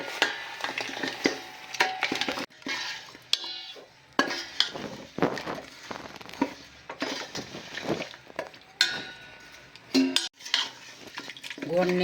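A spoon stirring jaggery in ghee in a pot for gundar pak, with repeated scraping and clinking strokes over a soft sizzle, close and uneven, with no talking.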